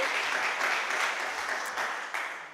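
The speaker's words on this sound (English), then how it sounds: "A round of applause for Catalonia" Audience applause at a food gift presentation ceremony honoring Catalonia, a steady broadband wash of many clapping hands that holds for a few seconds and tapers slightly toward the end, with no voices.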